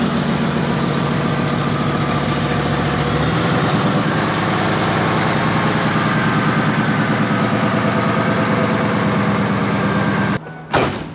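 A lifted, beam-axle Ford Excursion sits idling on pavement, its heavy engine throbbing in a steady rhythmic pulse for several seconds before a sudden thump and brief cutoff near the end.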